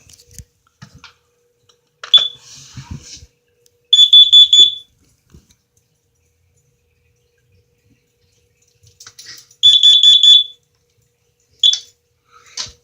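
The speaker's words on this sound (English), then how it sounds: "Now let's test this carbon monoxide alarm." Shrill electronic beeps from a carbon monoxide alarm being tested sound in short clustered bursts, loud and close, separated by long quiet gaps with faint clicks and handling noise.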